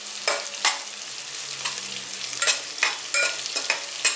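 Crushed ginger and garlic hit a hot pan for a matar pulao, sizzling steadily, with several stirring scrapes and clatters over the frying hiss, close up and with no talking.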